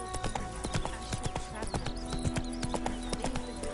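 Roach, a horse in The Witcher 3 video game, trotting with a steady rapid clip-clop of hooves, close and clear over faint background sound, with voices talking at times.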